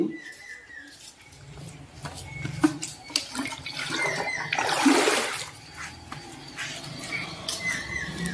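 Water is drawn into a bucket at an outdoor clay-pond fish breeding site in Bankura district. A rushing, splashing gush swells in the middle of the clip, with birds chirping faintly in the background.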